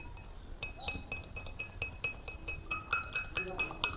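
A spoon stirs oil and water in a glass, tapping out repeated bright clinks in a steady rhythm while a person talks quietly.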